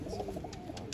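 Pigeon in a loft of small young birds, giving a soft, low cooing that runs steadily through the moment, close by, with a few faint higher chirps above it.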